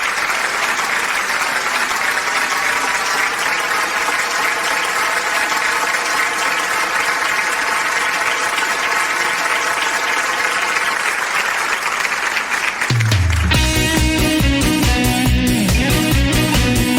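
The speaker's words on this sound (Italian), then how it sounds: "Gli facciamo un applauso." Sustained audience applause on an Italian variety television broadcast, dense and steady clapping from a crowd for about thirteen seconds before music takes over.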